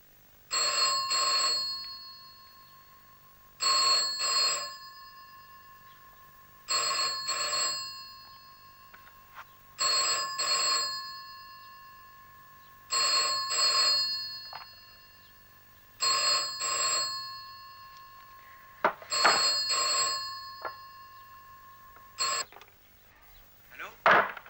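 A telephone rings in a quiet home early in the morning, seven evenly spaced double bursts of bright electronic trilling with short pauses between, fairly close and clear, ending in a brief clatter.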